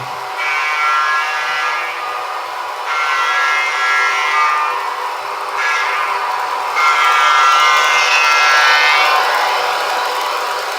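A Broadway Limited P5a box cab electric model locomotive sounds its long horn in loud, sustained blasts with brief breaks between them, the sound close and steady throughout.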